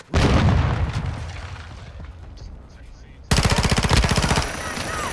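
Modern Warfare 2 gunfire, a loud, dense burst of rapid automatic shots that fades into quieter game noise, followed by another fast, evenly spaced volley of close machine-gun fire.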